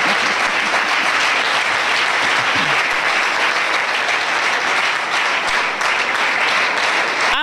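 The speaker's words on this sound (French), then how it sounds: "Ça s'acclame." A church congregation applauds loudly and steadily, a dense, sustained wash of clapping that continues without a break from start to finish.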